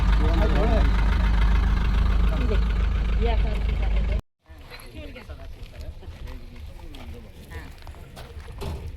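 A vehicle engine is started and settles into a steady idle, loud and close, with a brief silent cut in the middle. People talk over the engine throughout.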